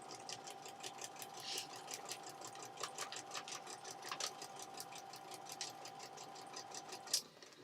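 A sewing machine runs steadily through a paper-pieced quilt block on foundation papers, a fast, even ticking of stitches at close range that halts abruptly near the end.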